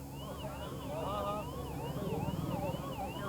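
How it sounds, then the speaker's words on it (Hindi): An ambulance siren wails in a repeating rising and falling pattern, caught in a traffic jam on a road in Ghaziabad during a farmers' protest, heard at moderate distance over low traffic rumble. "जाम जो सड़क है उस बीच जो एम्बुलेंस है फंस जाती है, उनको निकालने की कोशिश की जा रही है।"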